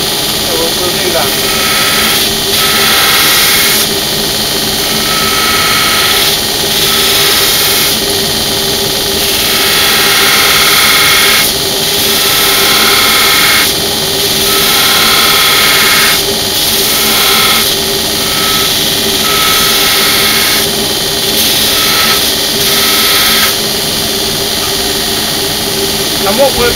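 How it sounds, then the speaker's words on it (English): A loud, continuous grinder whines while shaping the blade profile of a hand-forged knife, with steady droning hum and periodic shifts in pitch as the blade is pressed and lifted. "we're going to grind whatever blade shape we want on there"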